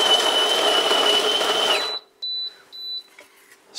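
A GIVENEU conical steel burr coffee grinder grinds beans on a coarse setting, a loud dense whir that stops abruptly, followed by a few short clicks and rattles.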